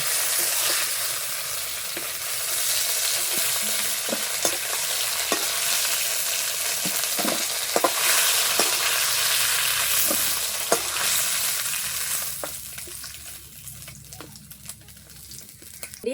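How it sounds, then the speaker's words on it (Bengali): Koi fish frying in a pan for a potato, pointed gourd and okra curry, with a steady close sizzle and spattering, punctuated by scattered sharp pops and stirring clinks that thin out toward the end. "হ্যাঁ, মাছ ভাজা হয়ে গেছে, এখন নামিয়ে নিব"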